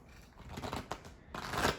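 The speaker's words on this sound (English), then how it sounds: "I'm just shuffling this" A deck of self-care oracle cards being shuffled close by, with soft papery riffling and sliding that builds to a denser burst near the end, with no talking.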